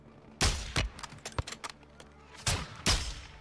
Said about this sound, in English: Laswell, we're taking ineffective fire from the cartel.